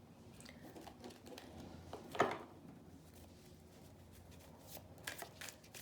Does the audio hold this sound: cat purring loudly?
no